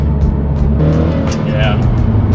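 A car engine hums steadily from inside the vehicle while driving, with a low continuous drone and a voice talking over it.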